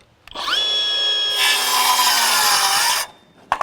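A Milwaukee M12 FUEL Gen II 5-3/8-inch cordless circular saw whines up to speed, then bites into wood with a loud, steady cutting roar for about two seconds before spinning down, followed by a brief clunk.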